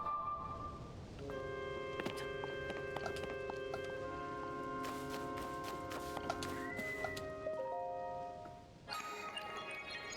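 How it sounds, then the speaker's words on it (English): Horse in a Zelda video game, snorting and clip-clopping alongside tonal game music with chimes, moderately quiet and continuous. "Alright, my noble steed."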